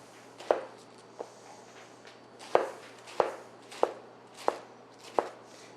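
A knife chops vegetables for cole slaw on a cutting board in a series of crisp, fairly close strokes, irregular at first and then settling into a steady rhythm, with no talking.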